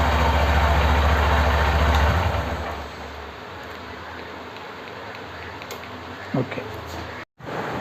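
A Honda SP Shine BS6 motorcycle engine idles loudly close by after a remote start, then drops to a quieter steady running hum with a small click late on.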